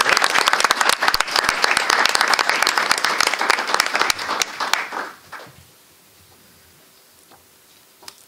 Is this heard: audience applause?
yes